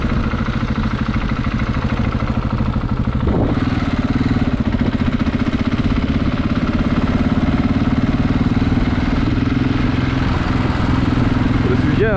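A motorcycle engine running steadily and close, with a loud, constant droning hum and a brief shift in tone partway through.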